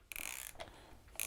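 A ratchet wrench unwinds the top cap of a 2015/2016 bicycle suspension fork with 36-series volume spacers, giving short clicking, creaking mechanical bursts close up with no talking.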